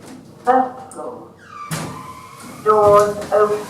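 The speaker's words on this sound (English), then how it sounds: "Doors open." Doors of a 1980s Kone hospital elevator sliding open, with a broad whoosh of movement and clear tonal chimes or announcement-like tones before and after, close and moderately loud.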